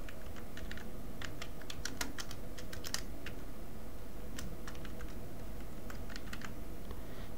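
Keys clatter on a computer keyboard in quiet, irregular bursts of close typing while entering a name into business software, with no talk.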